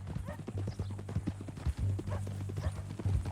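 Horse hooves clip-clop steadily on the ground in the video game Red Dead Redemption 2, a close, even walking rhythm with faint background voices and ambience.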